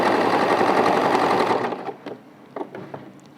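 Sewing machine stitching a fabric fold, a loud rapid mechanical whir running steadily for about a second and a half before stopping, followed by a few faint handling clicks and knocks.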